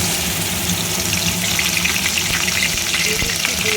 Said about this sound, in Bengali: মশলাগুলো একটু ভালো করে ভেজে নেব